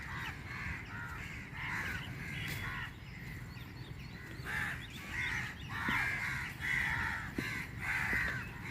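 Repeated harsh caws from several crows at Miramar Beach in Panaji, Goa, arriving in bursts, with a steady outdoor background hum.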